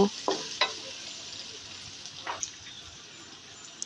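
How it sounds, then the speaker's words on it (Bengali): Cardamom and cinnamon frying in oil with onions: a steady sizzle with a few stirring scrapes and clinks, close and moderately quiet, with no talk. "মশলাগুলোকে এবার তেল ও পেঁয়াজের সাথে একটু ভেজে নেব"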